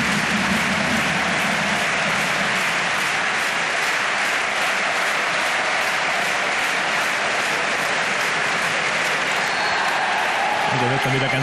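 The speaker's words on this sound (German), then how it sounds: "Wieder ganz fleißig geklatscht und da sind auch viele, viele Rapid-Fans dabei" Rapid football fans clapping in a stadium, a loud, continuous mass of rhythmic applause from a large crowd, with a commentator talking over it.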